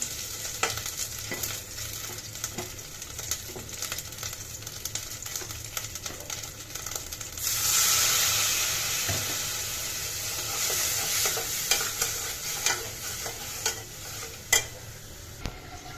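Ginger sizzles in a pan, a constant close frying hiss with scattered stirring knocks that swells noticeably partway through before settling back to a steady crackle.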